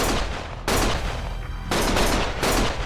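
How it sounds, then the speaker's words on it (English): Dense bursts of rapid gunfire from the video game Lost Judgment, loud and continuous with short gaps between volleys, no talking. "Stop shooting!"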